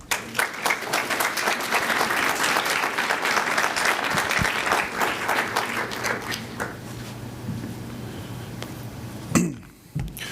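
Students at Universidad Regiomontana in Mexico applaud a presidential candidate, a loud, sustained burst of clapping from a large crowd that slowly thins toward the end.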